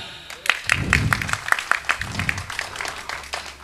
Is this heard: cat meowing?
no